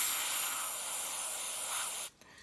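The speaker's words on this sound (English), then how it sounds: "I'd spray out your bowl" A steady, loud hiss of aerosol cleaner spraying into a carburetor bowl runs for about two seconds, close up, then stops abruptly.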